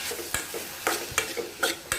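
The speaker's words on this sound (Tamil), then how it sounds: "டொமேட்டோ போட்டு டொமேட்டோ வந்து நல்லா சாஃப்ட் ஆகணும்" Onion and tomato frying in a pan, with a low sizzle beneath several distinct spatula scrapes and clinks against the metal at irregular intervals; no one speaks.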